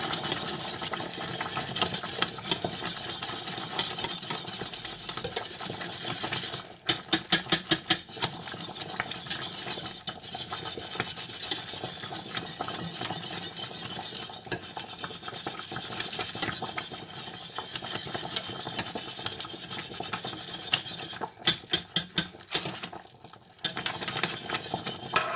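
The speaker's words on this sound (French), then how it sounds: "On continue à mélanger vigoureusement." Mornay sauce whisked vigorously after pepper is added, a continuous close scraping and rasping of utensil against pan running throughout, with a few brief sharp clattering breaks.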